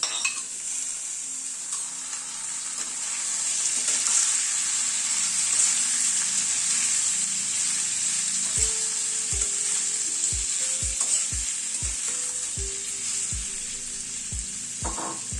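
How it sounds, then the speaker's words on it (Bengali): Potatoes frying in a pan with salt and turmeric, a steady hiss of sizzling oil throughout, joined in the second half by a run of quick scraping, tapping strokes from a spoon stirring the pan. "এই মিনিট খানেক একটু নাড়াচাড়া করার পরে আলুটা দিয়ে দিচ্ছি"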